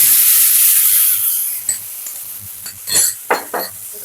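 Spice paste, ginger and a slit green chilli fry in an oiled wok, with a steady hiss of sizzling and a few scrapes and stirs of a spatula against the metal.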